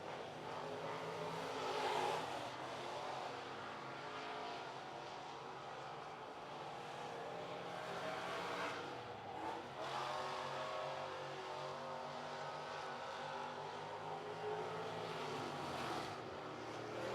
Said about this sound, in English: Jesse Wall going to be 11th quick on his opening lap